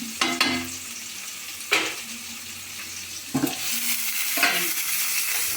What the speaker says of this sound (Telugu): ఉల్లిపాయ పచ్చిమిరపకాయ వేయించాలి సువాసన వస్తుంది వేగుతుంది